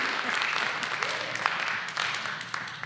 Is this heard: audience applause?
yes